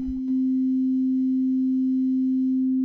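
A perfectly looped sine wave from a sample player synth hums as one steady pure low-mid tone, clean and unchanging after a brief soft thump at the start.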